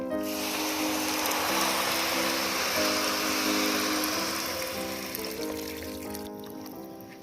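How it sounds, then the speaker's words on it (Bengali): Six cups of water pour into a pot of fried rice, lentils, chicken and vegetables for chicken khichuri, a continuous close splashing trickle that gradually fades toward the end. "আমি এখানে 6 কাপ পানি দিয়ে দিচ্ছি।"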